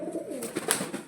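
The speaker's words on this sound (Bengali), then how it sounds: "এই যে 14টা পায়রা আছে এখন" Fulchira pigeons coo in a short, close burst of soft, throaty calls, with no talking over them.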